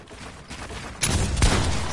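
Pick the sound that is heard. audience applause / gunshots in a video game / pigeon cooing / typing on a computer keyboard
gunshots in a video game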